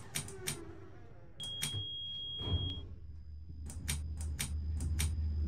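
Electronic elevator chime in a Roblox game elevator, a few short high bright tones repeating with one sustained tone, over steady low hum and faint background noise.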